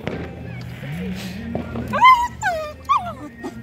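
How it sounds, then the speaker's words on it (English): A dog gives several short, high-pitched whimpering yelps and barks close by, bunched toward the end. Low background voices and household noise murmur underneath. "Why is Buck barking, ah?"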